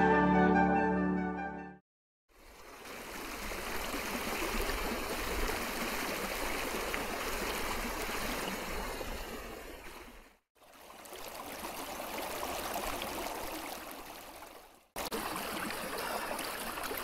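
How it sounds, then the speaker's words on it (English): A small set of rapids on a winter creek sends out a steady, full rush of flowing water, heard up close and alone, with a few short silent breaks. "But I've come across this little rapids,"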